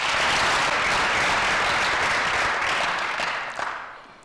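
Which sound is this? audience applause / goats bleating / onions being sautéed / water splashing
audience applause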